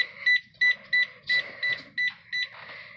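A Sharp Carousel microwave keypad gives about eight short, sharp electronic beeps in an even, quick rhythm, close and clear against a quiet background.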